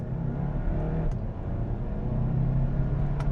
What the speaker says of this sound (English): Okay, I'm in manual, down into second. Let's do an acceleration.